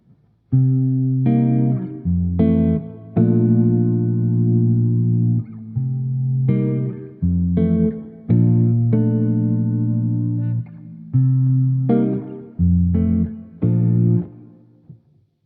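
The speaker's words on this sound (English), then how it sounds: "here we have a 2-5-1 progression" An electric guitar plays a jazzy ii-V-I (2-5-1) chord progression, chords strummed and left ringing with effects-tinged tone, and nobody speaks.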